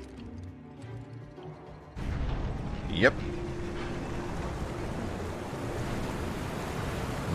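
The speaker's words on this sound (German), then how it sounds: "Ja, da können wir das Wasser ablassen wahrscheinlich." Water rushing and draining in Final Fantasy VII Remake, a steady broad wash that starts abruptly and continues throughout, with a brief louder surge early on and a short spoken word over it.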